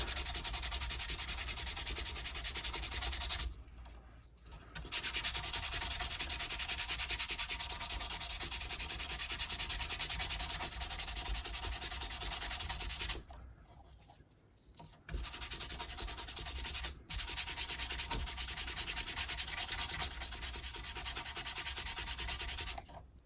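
Micro mesh polishing pads rub steadily over a guitar's finish, a continuous dense scratchy sanding sound that runs close and loud with a few brief pauses between passes.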